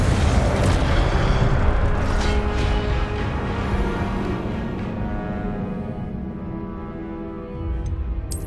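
An Incendio fire spell cast in the game Hogwarts Legacy erupts as a loud, roaring burst of flame that slowly fades over several seconds, with a smaller flare near the end.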